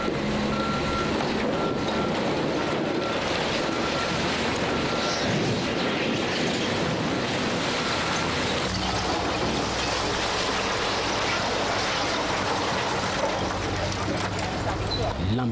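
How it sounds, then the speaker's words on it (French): Trucks dump rock at a construction site, a broad rumbling wash of tumbling stone and engine noise with a reversing beeper sounding and a voice talking over it. "donner l'ordre pour que les camions commencent à déverser la roche ici"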